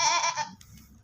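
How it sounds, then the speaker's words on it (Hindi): A horned male goat for sale at a livestock market gives a loud, harmonic bleat that lasts about half a second, followed by quieter rustling and low background noise. "एक और बकरा है जो कि फॉर सेल है, ये सींगों वाला"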